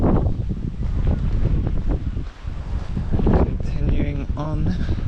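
Strong wind gusting against the microphone on a coastal walk in the dark, a loud continuous rush with a voice talking through it.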